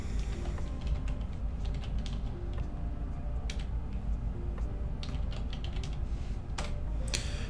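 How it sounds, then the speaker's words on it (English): Fingers tap keys on a computer keyboard's numpad, a close run of irregular plastic clicks and clacks, sometimes quick, sometimes spaced, with no voices. "I have to go to the other side of the keyboard now"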